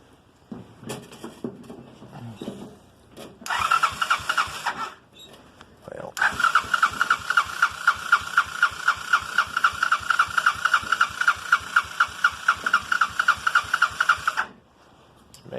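A Honda 200cc off-road buggy engine cranks and cold starts, stumbling briefly before settling into a steady, rapidly pulsing idle heard up close for several seconds and then shutting off.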